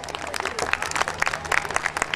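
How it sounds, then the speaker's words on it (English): A crowd claps in a burst of applause at a school annual day in Delhi, India, dense overlapping claps at moderate loudness with faint voices mixed in. "With a big round of applause, we welcome our chief guest, Mrs. Katie Jessel."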